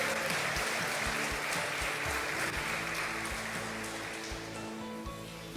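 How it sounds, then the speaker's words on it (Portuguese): A congregation claps during a New Year's Eve church service, a dense and steady wash of applause running throughout and easing slightly toward the end. "Pode aplaudir o Senhor"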